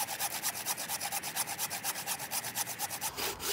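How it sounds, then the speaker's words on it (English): A Bahco Force Ergo 24-inch bow saw cuts through a tree stump on the face cut, giving a steady back-and-forth rasping rhythm of about five strokes per second, close and loud with no talk. "So I'm just going to start sawing through on the face cut."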